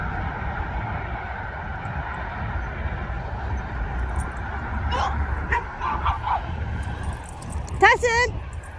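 A dog at a park gives short yips and whimpering cries near the end, over steady outdoor wind and low rumble; people talk in the background.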